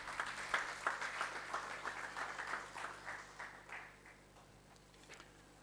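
Audience at a formal justice-sector review event clapping in a hall, a faint, fairly distant patter of many hands that thins out and fades toward the end.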